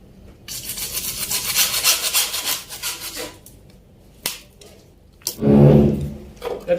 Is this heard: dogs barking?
no